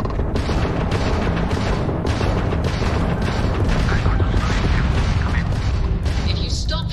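Spaceship weapons fire in Starfield as heavy, booming blasts and rumbling impacts follow one another densely, loud and close, with a voice speaking over the din.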